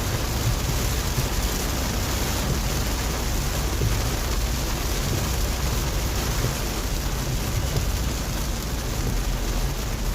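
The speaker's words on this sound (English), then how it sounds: "And the rain has definitely picked up again." Heavy rain pours steadily during Central Texas flooding on a road near Leander, a dense, constant wash of drops with no pauses, close and loud throughout.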